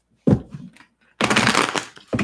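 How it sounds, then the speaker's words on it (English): Tarot cards being shuffled by hand, a short riffle followed by a longer, louder burst of card flutter, close and dry with no talking. "One more shuffle."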